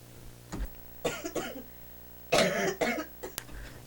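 Several short coughs in quick bursts, close to the microphone, with a louder cough near the middle and quiet pauses between.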